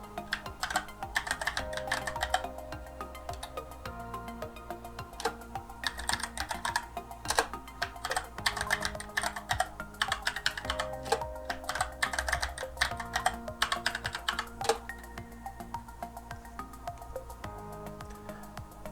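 A computer keyboard being typed on to enter a new password while setting up Ubuntu 20.04 on a Raspberry Pi 4, giving close, steady bursts of clicky keystrokes with brief pauses and no talking.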